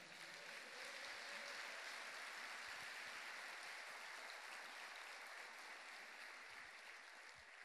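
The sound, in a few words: congregation applause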